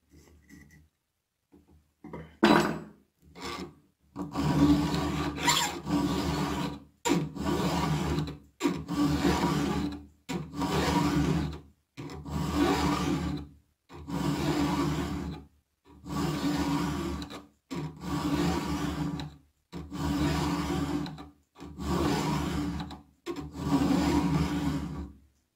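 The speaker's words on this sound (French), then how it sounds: "cette gouge que je viens d'affûter à la lime triangle" A chainsaw chain's gouge is sharpened with a triangular hand file, rhythmic rasping strokes repeating in a regular pattern of about a dozen firm, close passes separated by short pauses.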